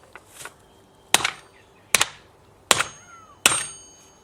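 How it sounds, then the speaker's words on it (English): Four sharp, ringing strikes spaced about a second apart, each a hard hit on metal with a short bright clang, heard alone against faint background noise. "First of all, a rubber hammer."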